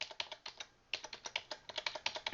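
Arrow keys on a computer keyboard are tapped in quick, uneven bursts of crisp, close clicks, with one short pause before the tapping resumes.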